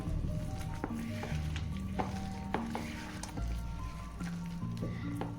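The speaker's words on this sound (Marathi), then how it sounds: "पाणी टाकायचं आहे पाणी तुम्ही तुमच्या ॲडजस्टनुसार टाकू शकता" Water is stirred into a thick onion bhaji batter of gram flour and onion, making soft wet squelches and slaps at a gentle stirring rhythm, with faint tonal music underneath.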